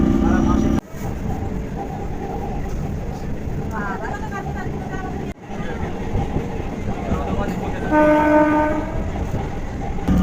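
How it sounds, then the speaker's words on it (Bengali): A local train pulls into Barrackpore station in North 24 Parganas with a loud, continuous rumble and rattle of wagons, then a sustained horn blast sounds close by near the end. "ট্রেন এই মুহূর্তে এসে পৌঁছালো উত্তর চব্বিশ পরগনা ব্যারাকপুর"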